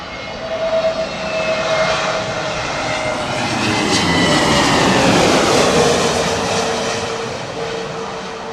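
A jet airliner's engines roar past an airport, loud and close, swelling to a peak midway and then easing off as the aircraft moves away.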